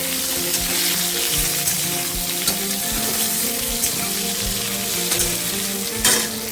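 Fish curry fries loudly and starts to burn in a hot pan, making a dense, constant sizzle and spatter close by with occasional sharper pops and no talking.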